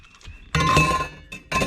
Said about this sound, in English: A bottle like this you can put in there